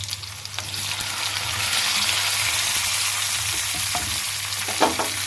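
Onions sizzling and frying in oil in a clay pot for a prawn recipe, a steady hiss with occasional stirring scrapes, close by.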